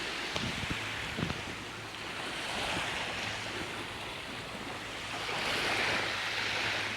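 Surf washing onto a beach in Thailand, a steady broadband wash that swells and ebbs, moderately near, with wind and no voices.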